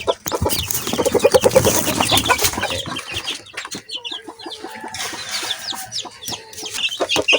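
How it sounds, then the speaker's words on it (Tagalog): Chickens cluck and chirp busily close up, several birds overlapping with scratchy rustling and a few brief louder squawks. "malalaki na sila mga manok"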